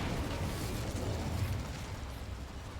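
Incendio fire spell cast in the Hogwarts Legacy video game, a sustained whooshing roar of flame with low rumble, fairly even in level for about three seconds, no voices present.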